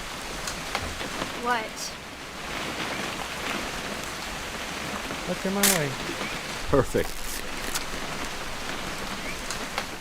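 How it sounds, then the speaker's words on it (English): Steady rain falls throughout a scene in the video game What Remains of Edith Finch, a dense hiss close around the listener while characters speak over it. "It's gonna rain the whole weekend, isn't it?"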